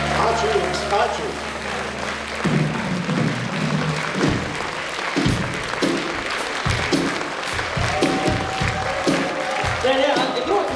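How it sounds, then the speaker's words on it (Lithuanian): A concert audience applauds at the end of a song at a band's 20th-anniversary jubilee show. Dense clapping runs throughout, a held musical chord fades at the start, and a performer speaks over the crowd. "matau publiką dar ploja"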